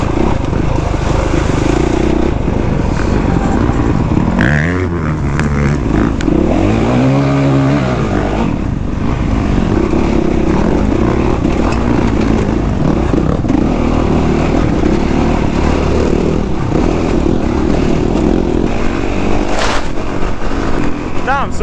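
A Honda CRF 450 enduro motorcycle from 2018 runs steadily on a trail ride, its engine drone continuous and loud throughout, with brief pitch swings as the throttle changes. Wind buffeting is mixed in, and no voices are heard.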